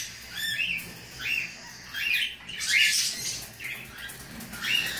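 A pair of harlequin pet birds, one cinnamon and one grey, give repeated high squawks and chirps at close range, a run of short calls over a low background hum.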